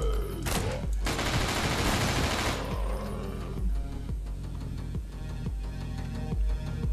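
Gunfire in the horror shooter Nightmare House 2, a heavy burst of rapid shots up front followed by a steady run of single booming shots, loud and close.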